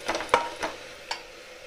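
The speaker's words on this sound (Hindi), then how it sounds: "इसे अब अच्छी तरह से हम भूनेंगे टमाटर को।" Tomatoes fry quietly in a pan on an Indian home stove while being stirred for a masala mushroom dish, giving a few soft scrapes and brief clinks over a faint sizzle.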